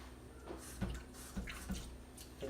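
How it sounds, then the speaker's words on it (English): Small pours of water going into a sauce mixture for a come back sauce, heard as a few soft splashes and drips close by in a quiet kitchen. "Let me add a little water."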